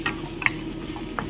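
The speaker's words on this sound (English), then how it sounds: "So I'm going to stir that continually so it doesn't burn." Stir-fry vegetables with carrots and soy sauce being stirred in a pan, giving soft scraping taps and a light sizzle over steady background noise.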